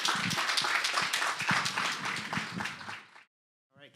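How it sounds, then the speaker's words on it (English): Audience applause at a live storytelling talk event, a dense burst of many hands clapping close and loud for about three seconds before cutting off, followed by a brief faint sound. "let's give him another round of applause"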